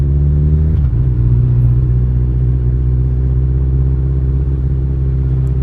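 Honda CB motorcycle cruising through city streets, its engine a steady loud low rumble close by with a brief shift in pitch near the start, continuous throughout.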